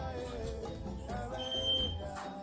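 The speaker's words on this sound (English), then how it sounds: "As you can see, the buzzer is beeping so that the person can see that if the obstacle is coming or not." An electronic buzzer on an obstacle-sensing walking stick gives a thin steady beep of about a second. It sounds under a busy, noisy exhibition hall at a robotics club event, with some background talk.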